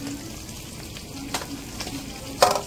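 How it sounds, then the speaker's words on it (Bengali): Vegetables fry in a pan during festival cooking at home, with a soft, steady sizzle underneath and a few sharp clinks and knocks of utensils, one louder near the end. "মা ওদিকে ভাজাভুজিগুলো করছে"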